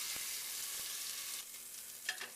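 Vegetables for a Moroccan chilli fry in a pan with a brief, fairly quiet, steady hissing sizzle and a couple of faint stirring scrapes near the end.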